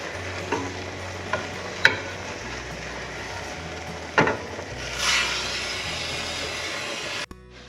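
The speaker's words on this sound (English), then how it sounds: "he said specifically 6 minutes to cook these onions" Onions sizzle in a pan while cooking for chili, a soft continuous frying hiss punctuated by a few sharp clicks and knocks of stirring utensils against the pan, all fairly quiet with no talking.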